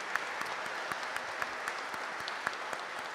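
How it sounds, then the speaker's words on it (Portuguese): An audience gives a steady round of applause at a formal ceremony session, dense even clapping with a few sharper individual claps standing out, moderately loud throughout. "Uma salva de palmas para eles,"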